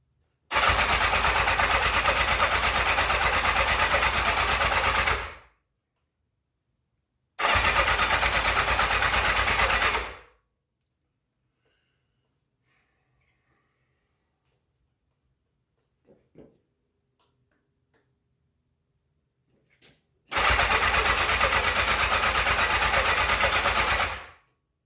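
A 1984 Honda CB700SC Nighthawk motorcycle engine, running on old gas after a carb clean, fires up and runs loudly for about five seconds, then again for about three. After a long quiet stretch with faint clicks, it starts and runs once more.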